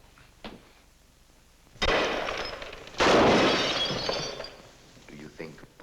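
Gunshots from a 1948 film: two sharp, loud cracks about a second apart, the second followed by a long crashing, shattering tail like breaking glass, with faint sounds between them.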